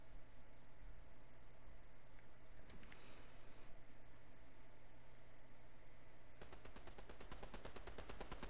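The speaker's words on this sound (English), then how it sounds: "What are you shooting at?" Rapid automatic gunfire in the Fortnite video game rattles out in a fast, steady burst near the end, with a brief hissing blast a few seconds earlier over a constant low game background.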